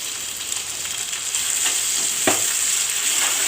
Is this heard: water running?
no